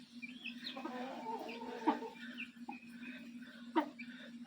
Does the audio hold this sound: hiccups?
no